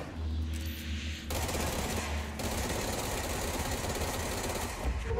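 Rapid bursts of video game gunfire fill the stretch, a dense, continuous rattle of shots that runs loud and steady throughout with no pauses.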